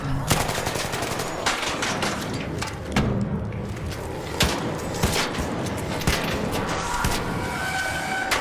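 Gunfire in a video game, with a steady stream of loud, rapid shots and occasional heavier thumps running through the whole stretch.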